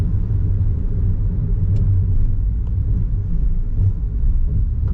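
A car drives through Macau evening rush-hour traffic near the Sai Van Bridge, a continuous low engine and road rumble from inside the cabin with faint ticks and no talking.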